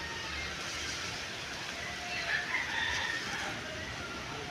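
Chickens cluck and a rooster crows faintly in the distance over a steady, hissing outdoor background.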